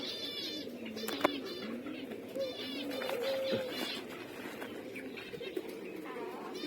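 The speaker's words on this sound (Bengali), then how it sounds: "ককাটেল।" Newly brought cockatiels, including hand-fed young, call with steady overlapping chirps and whistles from several birds at once, close by, over a constant background hum.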